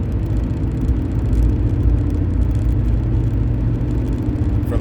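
Heavy trucks and 18-wheelers roll past on a road in a steady, loud rumble of engines and tire noise, with no break and no voices.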